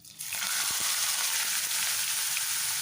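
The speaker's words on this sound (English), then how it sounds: "now I'll drop in these onions that was nicely chopped" Chopped onions dropped into hot oil with cumin seeds and bay leaf burst into a loud, dense, close sizzle that starts abruptly and holds steady.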